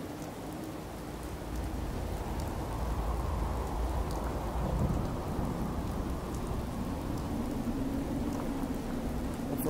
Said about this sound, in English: Look at that lightning. These storms.